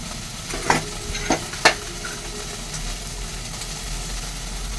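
A spoon stirs fried potato and jackfruit into curry spices in a pan, giving three brief scraping strokes over a faint, steady sizzle.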